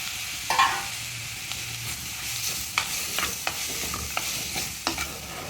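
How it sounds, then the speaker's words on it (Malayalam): Crab sizzling and being stirred in a hot pan of chili-spiced masala, with soft steady frying hiss punctuated by scattered scrapes and clinks of the spoon. "ഇതിലേക്ക് നമുക്ക് വൃത്തിയാക്കി വെച്ചിരിക്കുന്ന ഞണ്ട് ചേർത്ത് കൊടുക്കാം."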